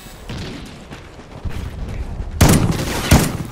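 Video game gunfire with bursts of shots and heavy booms, growing louder toward the end, with two sharp loud blasts near the close and no speech.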